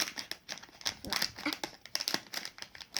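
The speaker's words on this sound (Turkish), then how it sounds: "Zormuş da paketi açmak" Plastic packaging on a Barbie toy is pulled open, giving close crinkling and tearing in short bursts and handling rustles, with a voice speaking faintly at times.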